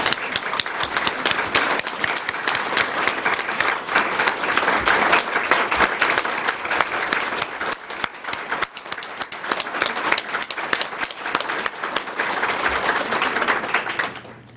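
An audience claps for a conference organizer at the Earth Conference, a dense, steady roar of many hands lasting over ten seconds before tailing off at the end.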